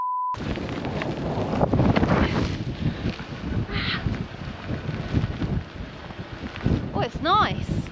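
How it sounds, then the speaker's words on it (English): Gusty winter wind in central Portugal buffets the microphone with heavy low roaring, while a person talks over it. "Whoa, it's windy."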